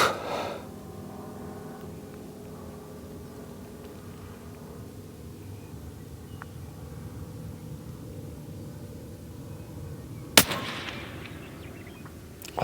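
A single loud rifle shot cracks out near the middle of a long-range shooting practice session, a sharp broadband burst standing alone over a steady low outdoor rumble with no talk.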